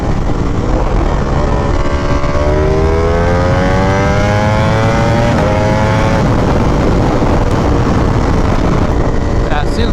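A repaired Ducati V4R motorcycle engine runs loud and close, a dense roar whose pitch climbs and falls as it revs, continuous throughout.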